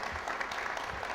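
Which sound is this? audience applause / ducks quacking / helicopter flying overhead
audience applause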